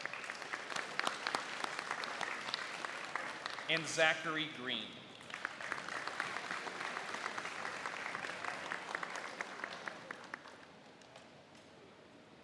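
Audience applause at a high school awards ceremony for a musical, a sustained round of many hands clapping that fades toward the end, with a voice speaking briefly partway through.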